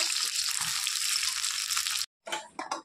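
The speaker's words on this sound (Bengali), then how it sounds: "তারপর পাতাগুলো ভেজে নেব।" Leaves frying in hot oil in a pan make a steady, dense sizzle for about two seconds, then a short break and a few fainter sputtering bursts.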